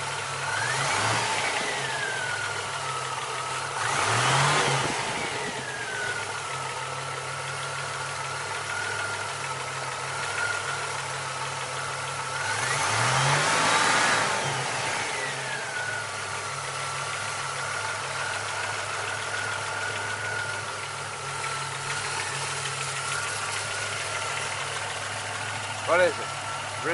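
Rebuilt Buick GN engine with about 100 miles on it, idling with a strange noise. A steady, close idle is broken by two long rev swells and a sharp knock near the end.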